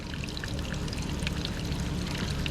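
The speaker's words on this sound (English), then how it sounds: "At least we know the waterfall's going to work in some sort of fashion." A small waterfall in a dart frog terrarium pours and trickles without a break, a close, steady splashing wash with no voices over it.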